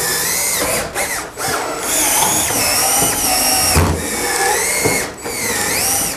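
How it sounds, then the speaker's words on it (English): A power drill drives fasteners to mount a swine barn attic inlet to the ceiling, with loud close whirring in several bursts separated by short pauses. "just fasten it to the ceiling"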